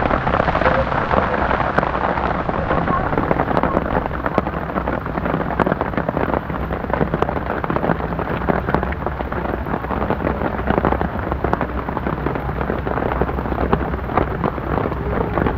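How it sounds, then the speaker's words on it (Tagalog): Heavy rain pours steadily on a campsite in Tanay, a dense, constant hiss and roar that stays close and loud for the whole stretch, with no talk over it. "malakas na ulan."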